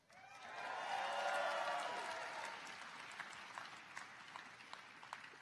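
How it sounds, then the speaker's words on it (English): Applause swells from an audience at an investiture ceremony, with cheering voices early on, then settles into scattered claps that gradually thin out. "Please feel free to applaud early and often."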